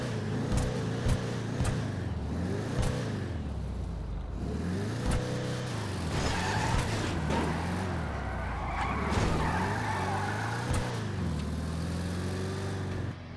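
A limited-release car in GTA 5 Online revs hard and repeatedly, its loud engine note climbing and falling in steady waves, with no one talking over it.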